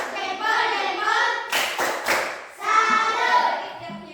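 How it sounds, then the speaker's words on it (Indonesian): Schoolchildren in an Indonesian classroom clap together in a short rhythmic salute. A quick burst of claps sits between stretches of children's chatter and an adult voice. "Tepuk salut"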